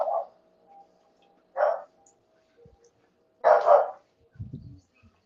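A dog barks in short, separate bursts, a few single woofs spaced apart, then a low grumbling sound near the end, with quiet gaps in between.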